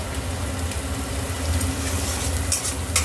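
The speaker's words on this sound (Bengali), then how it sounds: "গাজরটা একটু ভেজে নিই" Carrots stir-fried in hot oil for Indian-style chicken chowmein, a steady close sizzle with scraping stirs throughout, alone without talk.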